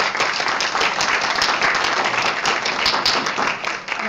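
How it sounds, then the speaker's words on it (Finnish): Conference participants at a Finnish meeting give themselves a round of applause, a dense sustained clatter of many hands clapping in a room, loud and even with no talk. "Aplodit vielä teille itsellenne kaikille"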